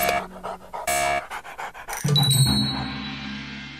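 A dog pants in quick, rhythmic breaths, close by and fairly loud, with short bursts at the start giving way to steadier huffing; no one speaks.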